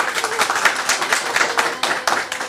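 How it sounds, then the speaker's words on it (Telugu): A theatre audience applauds during a stage play, with dense, steady clapping sustained throughout and brief stronger swells, heard at moderate distance without speech. "అవిగో అవిగో, వినరా వినరా చప్పట్లు."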